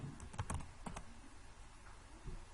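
Someone types a login name and password on a computer keyboard: a quick, faint cluster of close key clicks at the start, then a few scattered taps.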